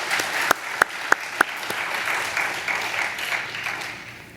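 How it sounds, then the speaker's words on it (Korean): A church congregation at a Wednesday service applauds a visiting missionary with sustained clapping. Several sharper, louder claps stand out near the start, and a murmur of voices runs under the clapping. "오늘 다시 한번 우리 교회에 오셔서 귀한 말씀 전해주신 우리 최갑순 선교사님에게 박수 한번 보내주시기 바랍니다"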